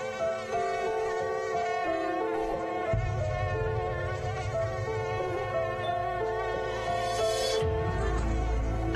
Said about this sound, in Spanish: No dejes que los mosquitos amenacen el mañana de tus hijos.